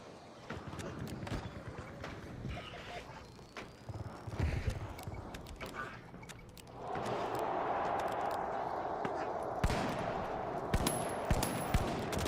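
Enemy gunfire in a video game, scattered sharp shots and rapid bursts that turn into a denser, steadier barrage midway through, mixed with game noise.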